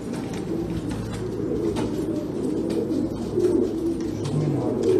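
A blue king pigeon coos at a pigeon auction, its low, repeated cooing steady and fairly close over a constant murmur of background noise.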